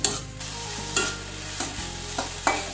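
Ginger paste sautéing in a little oil in a pan for a vegetable dal, a steady soft sizzle broken by several distinct scraping stirs of a spatula, close and fairly quiet.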